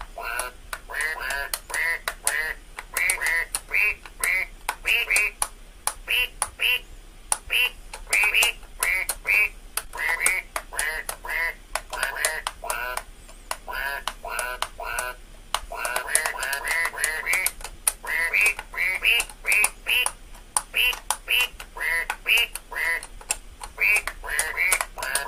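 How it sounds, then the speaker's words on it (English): Rapid, repeated duck quacks in uneven bursts fill the stretch, loud and near, with short gaps between clusters and no clear talking. "Quack, quack, duck."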